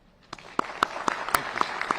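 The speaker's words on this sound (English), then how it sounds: "I'd like to have a round of applause for them" A few sparse, scattered claps from an audience at a county address, honoring police officers and veterans; the clapping starts thin and grows slightly but stays light and uneven.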